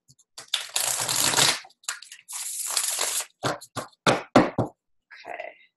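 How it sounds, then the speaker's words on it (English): Tarot cards riffle-shuffled in two long, rustling bursts, followed by several quick, sharp taps as the deck is squared up. Close and fairly loud, no talking. "Just going to do a couple more shuffles."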